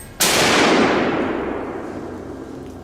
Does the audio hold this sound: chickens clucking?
no